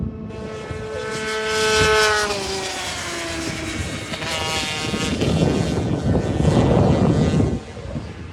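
A small-frame Hornet stock scooter races past at a circuit, its buzzing engine note rising as it nears, then sliding down in pitch as it goes by, followed by a broad rushing roar that cuts off near the end.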